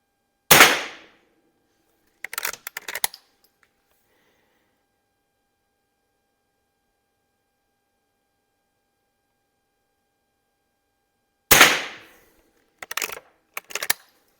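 A 1941 color case hardened Marlin 39A rifle fires offhand at targets, two sharp loud cracks about eleven seconds apart, each followed by a few quieter metallic clicks of the action in otherwise near silence.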